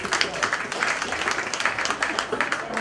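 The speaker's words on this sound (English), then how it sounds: "was that a round of applause or somebody put the chips in the fryer?" An audience applauds at a mentalism show, a dense patter of many hands clapping throughout, moderately loud and steady with voices mixed in.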